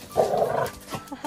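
A dog in a small yard lets out a single short, rough bark close by, with a faint voice after it.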